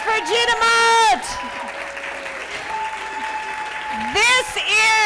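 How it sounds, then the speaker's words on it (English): An audience at a life-redesign conference session applauds for an honoree. Loud whoops and voiced cheers ring out at the start and end, with a steady bed of clapping in between. "I want a big round of applause for Gina Mott"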